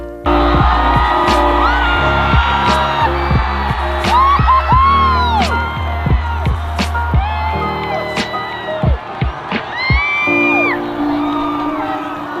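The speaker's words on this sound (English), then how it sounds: "crossed the line with the greatest roar from a crowd I have ever heard" A huge crowd roars, whoops and cheers as Eliud Kipchoge finishes his sub-two-hour marathon in 1:59:40, a loud, sustained wall of shouting with sharp individual yells cutting through.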